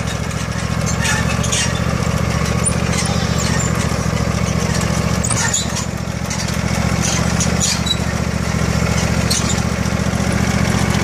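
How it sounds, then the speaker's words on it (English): A riding lawn mower engine drones steadily and loudly throughout, with a low constant rumble and brief clatters, close by. "driving a lawnmower"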